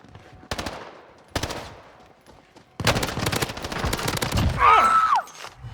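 Gunfire in the video game Warzone Pacific: two short automatic bursts, then a longer sustained volley of rapid shots, loud and close, ending with a whistling shriek.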